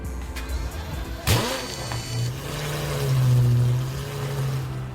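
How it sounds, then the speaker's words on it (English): A Pagani Zonda Revolution Barchetta engine starting in Roblox: a sharp crank and catch, then a loud, steady idle burble that swells slightly before settling, with no talking. "It was also very expensive because it's a Pagani Zonda Revolution Barchetta. Just listen to the startup over here."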